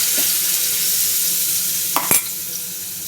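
Green chilli paste frying over low heat in a pan gives a steady, close sizzle throughout, with a couple of brief clinks near the end.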